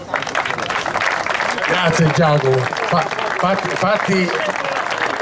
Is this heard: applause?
yes